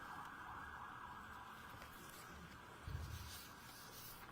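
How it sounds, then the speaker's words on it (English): A faint siren wails steadily in the distance, muffled as if heard from inside a courtroom, with a brief low thump partway through. "if I could just hold on 1 minute while the sirens pass."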